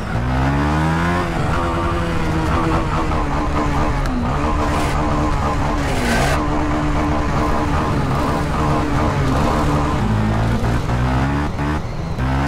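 A brand-new Honda Twister 300F motorcycle is revved hard up to its rev limiter during a wheelie. The loud, close engine drones continuously with rapid pitch dips and surges throughout.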